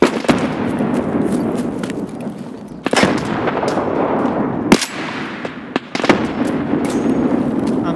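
Escape From Tarkov combat on the Customs map: dense, continuous gunfire rattles close by, broken by several heavy grenade blasts that punch out above the din.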